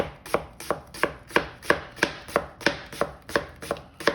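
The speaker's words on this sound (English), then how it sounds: "there's our onion, and this is just how I cut it" A knife slices an onion very thinly, almost shaving it, for Sven's potatoes and onions: a steady run of about twelve crisp, evenly spaced cuts against a board, close and alone.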